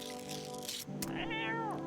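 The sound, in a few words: cat meowing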